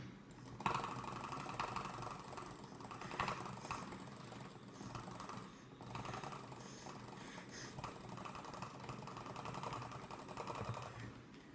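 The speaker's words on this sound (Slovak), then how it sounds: "A teraz ide jitter klik a potom pôjde butterfly." A computer mouse button is jitter-clicked for a Kohi click test, producing a rapid, continuous stream of fast, light clicks at close range that runs almost without a break throughout.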